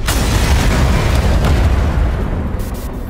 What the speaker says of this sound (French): Mais maintenant, il n'y a plus que des manifs. Des explosions.